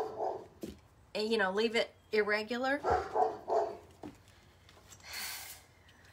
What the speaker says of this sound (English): You're hearing the bug zapper and the dogs barking and all the outside noise.